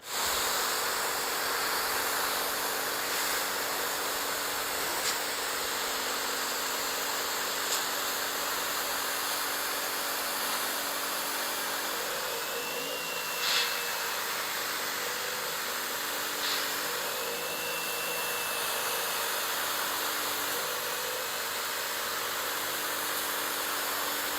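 An EGO 56V battery pressure washer sprays through a 15-degree nozzle with a continuous, even hiss and motor hum that stays steady throughout, with occasional faint clicks and no talking.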